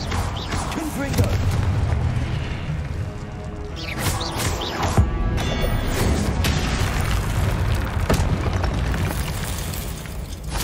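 Explosive Confringo spell blasts in Hogwarts Legacy during a trial, booming impacts and crashes over a dense, continuous wash of game sound effects and music, loud throughout with sharper bursts near the middle.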